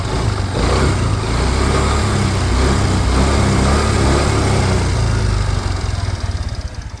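A motorcycle engine idles close by, a loud steady rumbling chug that runs evenly, then loosens into a slightly uneven putter near the end.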